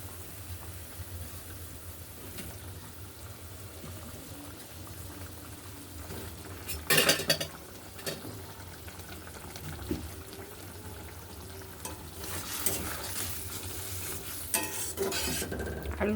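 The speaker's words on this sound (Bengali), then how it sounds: "আলু দিয়ে খানিকক্ষণ ভালো মতো কষিয়ে নেব এটাকে" Potatoes are sautéed in a mustard-poppy seed masala for a tilapia curry, giving a continuous close sizzle with spatula scrapes and clatter against the pan, including a loud burst midway.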